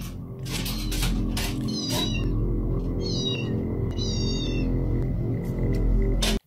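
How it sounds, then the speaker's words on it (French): A cat meows several times, clear drawn-out cries standing out over a constant low hum, with a few sharp knocks between them and a sudden cutoff. "On entend un chat? J'ai entendu un chat."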